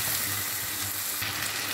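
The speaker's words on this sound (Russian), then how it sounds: "Здесь у меня жарятся грибочки." Mushrooms with onion sizzling in a frying pan over high heat, a steady, loud, continuous frying hiss throughout with no pauses.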